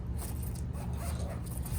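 A zipper is pulled open on the medication pouch of a school emergency medical bag, a close, rapid rasping scrape lasting a couple of seconds with no talk.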